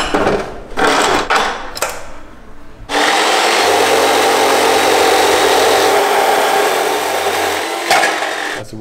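A power tool cuts into a metal car gearbox gear from a scrap-metal pile. A few short bursts come first, then a loud, continuous, close-up grinding whine that holds steady to the end.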